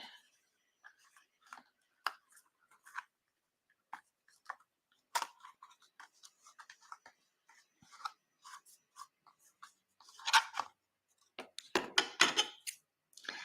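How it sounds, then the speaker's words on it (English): Intermittent snips and crisp crunching cuts of scissors through paper for a mixed media collage, sparse at first, then quicker and louder clusters toward the end. "I shouldn't be using these scissors either to cut"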